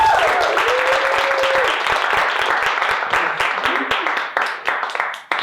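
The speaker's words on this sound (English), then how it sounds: "Give him another round of applause." Audience applause at a live evening show, dense and steady clapping from a crowd filling the space, with a voice briefly audible underneath before the applause thins toward the end.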